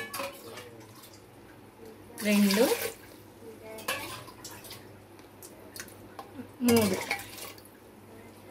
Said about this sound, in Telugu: ఈ గ్లాస్తో 3 గ్లాసుల వాటర్ పోయాలి